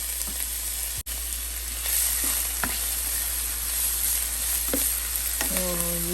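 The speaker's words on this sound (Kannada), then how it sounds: "ಸೊ ಈರುಳ್ಳಿ ಚೆನ್ನಾಗಿ ಸ್ವಲ್ಪ ಬ್ರೌನ್ ಆಗಲಿ." Chopped onion sizzles in hot ghee and oil with whole cinnamon, cloves and cardamom, a steady close frying hiss broken by a few sharp clinks and scrapes of a spoon stirring the pan.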